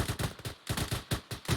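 Rapid bursts of gunfire laying down suppressing fire during cover and movement training, loud and close, firing in quick uneven volleys with brief gaps between strings of shots.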